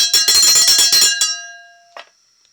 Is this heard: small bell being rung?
yes